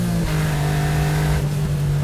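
A Honda Beat kei car's small engine revs hard at full throttle, a loud, steady drone climbing in pitch as it is heard from inside the cabin.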